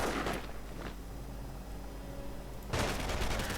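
Dense bursts of gunfire from a 1v1 video game battle, with a heavy volley at the start and another at the end. A steady low battle rumble fills the stretch between them.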